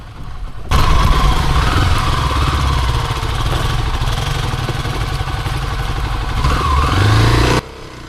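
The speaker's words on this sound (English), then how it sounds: "The little KLX 250s, good clutch on them, quite easy and smooth to use." A Kawasaki KLX 250 dirt bike climbs steep terrain, its single-cylinder engine droning steadily and loudly with a light clatter for about seven seconds, swelling slightly toward the end before cutting off.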